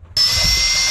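Power drill boring into the wooden hull of a live-aboard boat, starting abruptly after a brief pause and then holding a steady, loud, high whine with low rumble beneath, close by, no talk.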